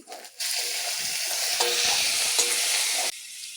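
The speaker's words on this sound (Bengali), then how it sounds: "রসুনটা দিয়ে একটু হালকা লাল করে ভেজে নেব।" Garlic sizzles steadily in hot oil in a pan for a village-style duck egg curry, a loud continuous frying hiss that starts abruptly and cuts off after about three seconds, with faint stirring scrapes.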